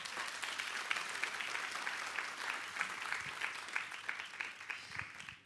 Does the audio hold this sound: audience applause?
yes